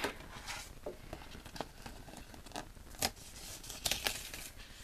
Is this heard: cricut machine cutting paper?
yes